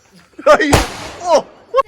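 A single sharp firecracker bang bursts out during Christmas celebrations, between bits of nearby talk, loud and close.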